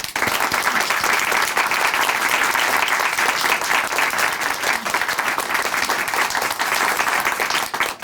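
An audience in a church television show studio applauds, a dense, continuous burst of clapping that stays loud and even throughout, with no talking over it.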